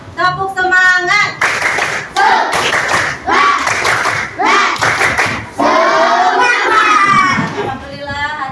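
Children in a class perform a rhythmic spirit clap, bursts of sharp unison clapping alternating with chanted, sung-out phrases, loud and close with a pattern of repeated claps and shouts.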